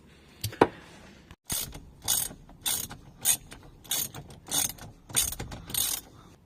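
Mechanical ratcheting and clicking while the steering wheel nut is tightened on a Nissan 350Z, a run of repeated close, crisp bursts separated by short pauses, with no voices.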